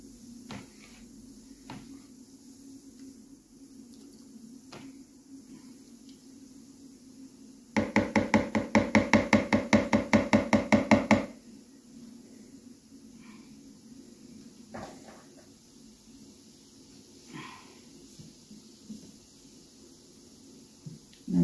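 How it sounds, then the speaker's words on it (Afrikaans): A lid is pressed back onto a plastic fermentation bucket holding a sugar wash for alcohol, giving a loud burst of rapid clicks and snaps for about three seconds midway, with a quiet room hum before and after. "Dan sit ons deksel terug."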